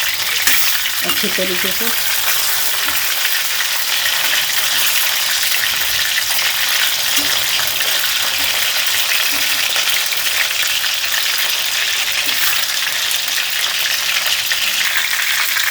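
Chicken pieces for hotel-style chilli chicken fry in oil with a loud, constant crackling sizzle that fills the whole stretch, and a voice speaks briefly over it.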